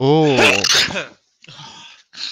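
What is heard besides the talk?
sneeze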